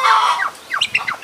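Backyard chickens squawk loudly and close by, a series of short, harsh rising calls in quick succession with a brief pause between bursts.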